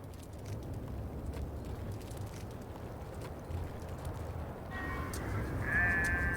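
Wild goats bleat faintly in the distance on mountain cliffs over a steady wind-like outdoor rumble, with a clearer high bleat rising near the end.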